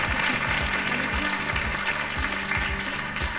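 A television studio audience applauds contestants with dense, continuous clapping that stays loud and steady throughout, with no voices heard.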